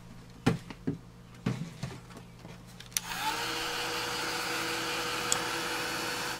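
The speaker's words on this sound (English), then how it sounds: "And now I want to dry my flower." A few small handling taps and clicks, then a heat tool switches on with a steady, loud whirring blow as a melt art flower is dried, running continuously until it cuts off.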